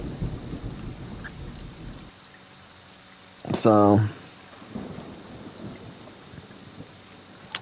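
Rain and thunder in the video game Friday the 13th: a steady patter of rain, then a sudden loud crack and rumble of thunder midway, with a brief spoken word at the start.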